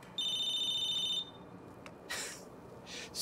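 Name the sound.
phone ringing, from the video game Battlefield Hardline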